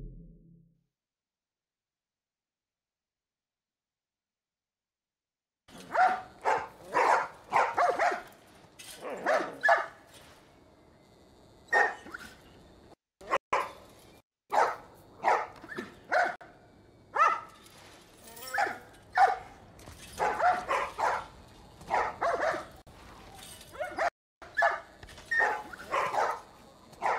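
Dogs in The Last of Us Part 1 bark repeatedly after a few seconds of silence, a sustained run of loud, close yaps and woofs with short gaps between bursts.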